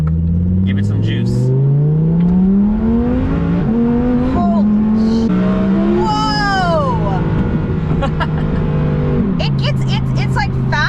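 A 2017 Audi R8 V10 Plus fitted with a twin-turbo kit accelerates hard, its engine note climbing and dropping through several gear changes while people talk and exclaim over it.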